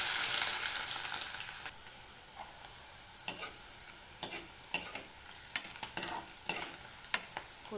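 Bitter gourd (karela) pieces frying in hot oil for a crisp finish, a steady sizzle with scattered sharp stirring clicks and taps that grow more frequent toward the end.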